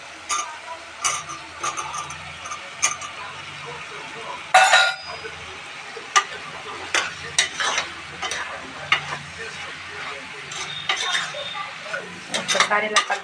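Cut potatoes with turmeric and salt being stirred in a cooking pot for a Telugu pithiki pappu potato curry, giving repeated scraping, clinking and soft sizzling under a speaking voice.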